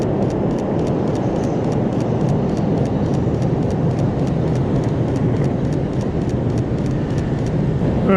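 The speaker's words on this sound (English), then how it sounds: "All right, train coming." A train passes during a snowy blizzard, making a loud, steady rumble with faint, evenly spaced clicking running through it the whole time.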